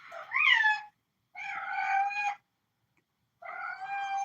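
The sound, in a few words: Siamese cat meowing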